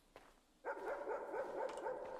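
Dogs in the Lempo video game bark in a quick run of repeated, mid-pitched barks that start abruptly and carry on steadily at moderate loudness against a quiet backdrop.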